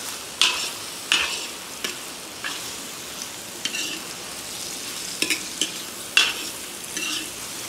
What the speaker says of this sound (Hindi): दोनों चीज़ों को अच्छे से हम लोग रोस्ट कर लेंगे